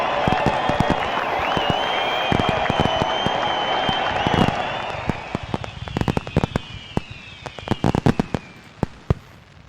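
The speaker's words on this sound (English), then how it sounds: "Fireworks in Twitter Town." Fireworks crackle and pop in a baseball video game celebrating a win, with dense sharp bursts over crowd cheering and applause that fades as the bangs grow sparser.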